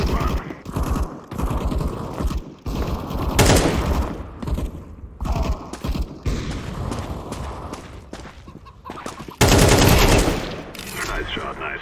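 Rapid bursts of gunfire in Counter-Strike 2, loud and close with several volleys and a heavy burst near the end.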